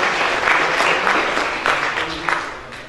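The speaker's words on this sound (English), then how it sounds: "We have round of applause." An audience at an energy storage conference session gives a round of applause, a crowd of hands clapping steadily before tapering slightly toward the end.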